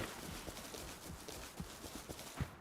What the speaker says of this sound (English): I thought I just heard a horse.